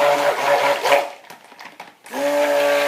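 Stick blender whirring through thick soap batter in short bursts, a loud steady motor hum that cuts out briefly with a few soft knocks before starting up again.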